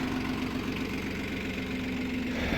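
A tractor engine with a plough attached runs steadily at a low, even idle, close by and loud, with a constant throbbing hum and no voices.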